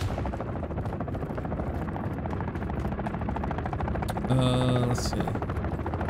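Attack helicopters in the Modern Warfare III video game thrum as a dense, continuous rotor roar under gunfire-like crackle, with a brief tonal game sound and a short spoken remark near the end.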